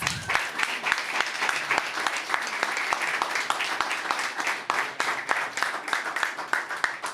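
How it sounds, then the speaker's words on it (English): An audience at a civic innovation pitch competition applauds the third-place team, a dense run of sharp claps that holds steady for several seconds, with no talk over it. "let's give a round of applause for ENGR Dynamics"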